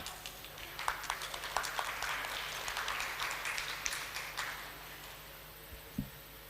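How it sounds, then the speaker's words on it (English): Applause rises from the audience at the Global Partnership Forum 2025, scattered distinct claps over a soft bed of clapping that fades out, followed by a low thump near the end. "Give applause, ladies and gentlemen."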